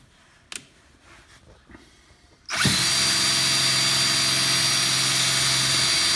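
A power drill running in reverse on a Detroit Diesel 8V53 fuel pump whirs loudly and steadily for several seconds after a few faint clicks and knocks, close by with no talking.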